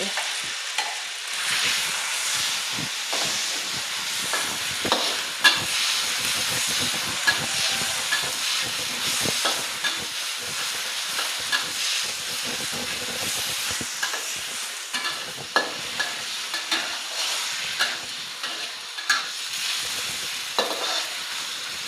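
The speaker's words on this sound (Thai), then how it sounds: "ผัดไก่ให้เกือบสุกก่อนนะคะ" Steady loud sizzling of marinated chicken breast stir-frying in a hot pan, with constant scraping and stirring clatter throughout, close up and no voices.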